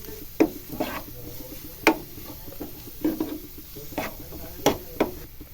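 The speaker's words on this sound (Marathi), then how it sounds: "आता त्याच्यात आपण खोबरं हिरवी मिरची लसूण त्याचं वाटण जे केलं होतं ना ते टाकायचं आणि चांगलं व्यवस्थित तेलामध्ये परतून घ्यायचं" Coconut, green chilli and garlic paste frying in oil in a pan for a methi vegetable dish, with several sharp spatula scrapes and knocks over a low, steady sizzle.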